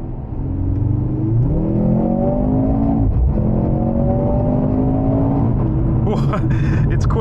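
A 2023 Mercedes-AMG C43 accelerates hard in Sport Plus mode on a road, engine note climbing through rising gear pulls with brief shift breaks, heard from inside the cabin, ending with a burst of higher noise.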